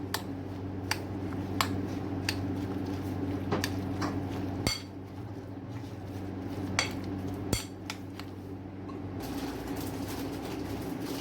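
Moong dal pakora batter mixed with salt in a bowl, steady scraping and stirring under a constant background hum, broken by occasional sharp clinks of a utensil against the bowl.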